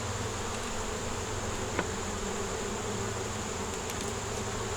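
Honey bees buzz in a steady, dense drone around a backyard hive, with no break or change in level, and a single faint click partway through.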